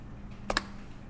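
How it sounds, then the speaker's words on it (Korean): Arrow keys on a computer keyboard are pressed twice in quick succession, two crisp clicks close together over a quiet room hum. "이 키보드에 오른쪽, 왼쪽, 위쪽 화살표 키를 이용해서 그리는 방향을 내가 제어시킬 수 있습니다"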